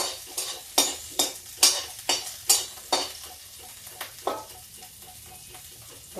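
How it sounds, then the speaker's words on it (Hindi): Fenugreek seeds crackling in hot oil for a lauki bada kadhi tempering, a series of loud, sharp stirring scrapes and clinks over a continuous sizzle, close up and without speech. "अब मेथी तड़क जाए"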